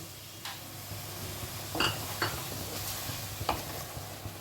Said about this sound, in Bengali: এবার যতক্ষণ না মশলা থেকে তেল ছেড়ে যাচ্ছে ততক্ষণ আমি এটাকে কষাবো।